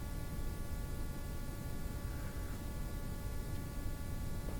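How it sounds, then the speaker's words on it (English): Steady white noise from a computer white noise generator program plays as a constant even hiss, faint and unchanging throughout, with no voices. "I was able to download a little program called White Noise Generator"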